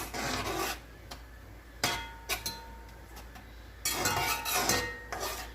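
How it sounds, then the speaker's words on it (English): A spoon stirs yellow rice with sliced beef smoked sausage in a pan, scraping and clinking against the metal in uneven bursts, with short sharp knocks between quieter gaps. "so now that that's all in there, let's give it a good mix"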